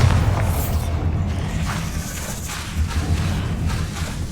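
The Bombarda spell's explosion in the video game Hogwarts Legacy: a deep, booming rumble that holds steady through the combat noise, without a single sharp burst.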